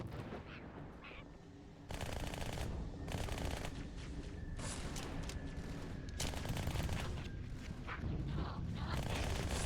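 SMG fire in Halo 2 rattles in long rapid bursts, loud and close, running almost continuously under battle noise with a few brief pauses.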